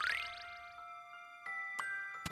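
A bell chimes in the puzzle game Professor Layton and the Miracle Mask: a bright rising jingle opens, then several clear ringing dings follow in quick succession, each leaving a sustained metallic tone.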